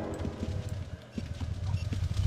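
Horse hooves clip-clopping in the video game Ultima Online, a quick, even trot of close, distinct hoofbeats with a brief pause midway.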